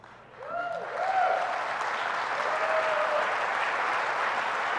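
Audience applause during a White House speech, a steady wash of clapping from a crowd rising after a brief moment and holding evenly, with a faint tonal whistle-like sound early on.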